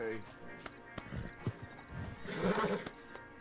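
A horse in Red Dead Redemption 2 whinnies and neighs among hoof clops, with someone speaking calmly over the animal's agitated sounds.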